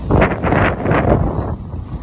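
Heavy wind buffets the microphone, a loud low rumbling roar that surges and eases for a couple of seconds.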